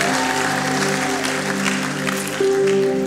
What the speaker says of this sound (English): can we give all these people a round of applause?